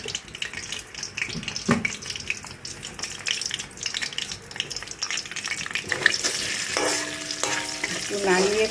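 Chicken pieces frying with whole garam masala spices and bay leaves in a wok, loud continuous sizzling and spattering while being stirred, close and steady, with no talk.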